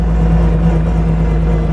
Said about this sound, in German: jetzt hört euch das mal an. Fast 7 Liter Hubraum, was das für ein Sound ist